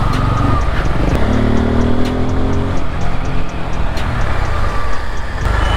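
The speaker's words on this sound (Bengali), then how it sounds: "পালসার এই সাউন্ডটা আমার দারুণ লাগে, একটা ভীষণ বেসওয়ালা সাউন্ড" Bajaj Pulsar motorcycle engine with a deep bass exhaust rumbling loudly and close, revving under heavy road and wind noise with no clear speech.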